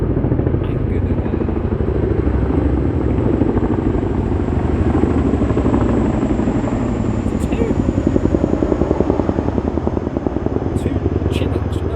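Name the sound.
two Chinook helicopters flying overhead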